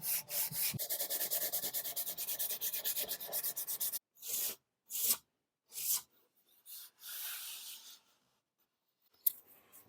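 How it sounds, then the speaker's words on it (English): Hand sanding reaches into tight spots on old furniture under restoration, with a steady rapid rasping scrub at first, then separate short strokes broken by pauses, close and with no talk. "what we're doing now is sanding the areas that I can't get to with anything else"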